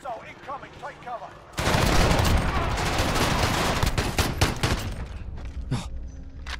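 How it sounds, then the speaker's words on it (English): Cruise missile strike in Call of Duty: Modern Warfare online multiplayer: a sudden loud blast at about 1.5 seconds rolls into a sustained roar of explosions and crackling gunfire, after quieter talk at the start. "Enemy cruise missile incoming. Take cover."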